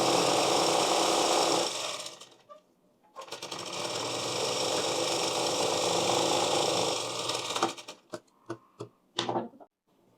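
A sewing machine double-stitches a blouse in two long, loud runs with a short pause between them. Brief rattling clicks and taps follow near the end.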